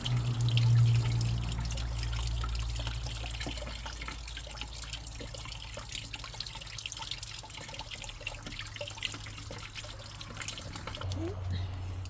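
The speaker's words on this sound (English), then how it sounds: "But it is draining." Water drains steadily from a UV filter tank in a continuous trickling flow, with a low hum underneath that is strongest at the start and near the end.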